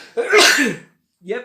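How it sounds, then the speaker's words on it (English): A person sneezes once, loud and close, in a sharp burst with a short aftertone, followed by brief speech. "you got to see me sneeze."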